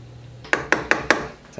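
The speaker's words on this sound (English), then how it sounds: "Stir that in" A spoon clinks against the side of a pot four times in an even rhythm while homemade enchilada sauce is stirred. The clinks are fairly close and crisp, with no talking.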